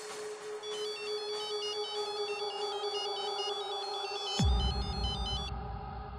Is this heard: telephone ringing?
yes